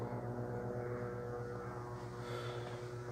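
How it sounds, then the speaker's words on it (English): Steady low rotor thumping from a helicopter overhead, constant and moderately distant, with no other sounds. "have to shoo away the aircraft from time to time"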